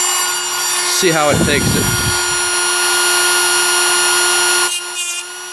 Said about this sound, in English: we're going to work this Dremel a little bit harder